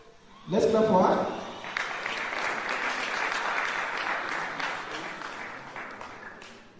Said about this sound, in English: Let's clap for her.